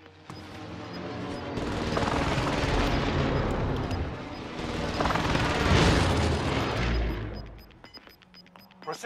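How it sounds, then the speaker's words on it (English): A precision airstrike in a first-person shooter game, rolling booms and rumbling blasts building into a long, heavy barrage that swells twice before fading into quieter clatter. "Precision airstrike missed."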